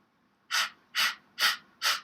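Four quick, forceful breath-of-fire breaths pushed out in an even rhythm, loud and close, like rapid panting with short pauses between.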